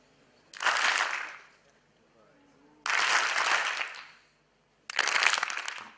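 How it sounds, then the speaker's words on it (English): A seminar audience at a Yes Bank session claps in unison on cue, three separate loud bursts of clapping with quiet gaps between them. "If I point here, clap once."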